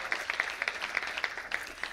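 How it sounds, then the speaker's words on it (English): An audience at a women's awards conference gives a short, scattered round of applause, individual claps standing out fairly distinctly over about two seconds. "I'm going to pause so you can give her a special round of applause"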